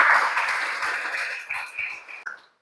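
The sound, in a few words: group applause in a classroom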